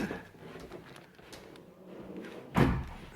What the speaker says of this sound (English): We're walking down the hall through that fire door.